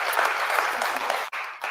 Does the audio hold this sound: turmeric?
no